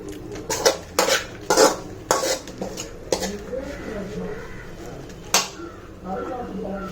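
A spoon scrapes and clinks against a bowl as ingredients for a no-cook vegetable biryani are mixed: sharp metallic taps come in quick clusters early, then give way to softer stirring, with a voice talking underneath.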